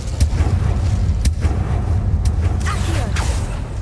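Incendio fire spell cast in Hogwarts Legacy, heard as a dense rumbling blast of magical fire with sharp crackling impacts and whooshing swells over a heavy low roar, loud and close throughout.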